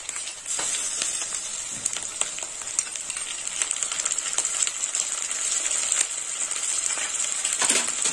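Spice pastes of cumin, ginger and green chili are stirred in a frying pan while cooking muri ghonto, giving a steady hiss with scattered scraping clicks, close and moderately quiet, with no voices.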